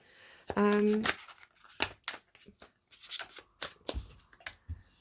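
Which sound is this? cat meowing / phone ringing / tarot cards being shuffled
tarot cards being shuffled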